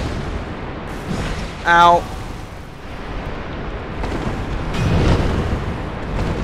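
An explosion goes off in the video game Dark Souls, a short booming burst heard amid game effects while a player speaks and reacts.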